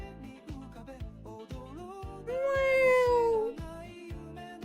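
A pet cat meows in a long drawn-out call near the middle, heard alone and fairly close, with a rhythmic muffled thumping running beneath it.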